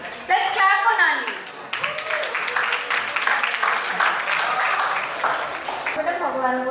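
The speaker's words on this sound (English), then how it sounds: "let's clap for नानी" Guests at an Indian wedding sangeet in Bhubaneswar clap together in a lively, continuous patter, close and steady, with people talking over and around the applause.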